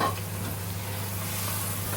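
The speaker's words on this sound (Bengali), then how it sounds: "দেখুন কিভাবে কষিয়ে নিচ্ছে এভাবে কিন্তু কষিয়ে নিতে হবে" Country chicken sizzling as it is stir-fried in spices, a constant close crackle with soft scraping of stirring.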